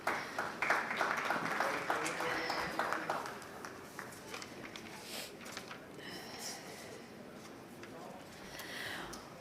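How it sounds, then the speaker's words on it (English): Audience applause at a summit event, a dense patter of clapping that is loudest early on and then thins to a softer, scattered clapping toward the end. "Let's keep the claps coming"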